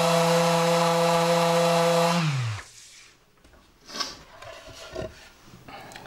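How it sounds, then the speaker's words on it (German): A power sander runs loud and steady over solid wood being smoothed after a crack was filled, then spins down and cuts out, followed by a few light knocks and handling sounds. "Wenn das trocken ist, einfach wieder drüber schleifen."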